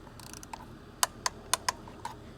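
Torque wrench clicking on camshaft cover bolts of a GM Ecotec 2.2L engine, a few crisp ratchet ticks followed by four distinct sharp clicks, close and alone.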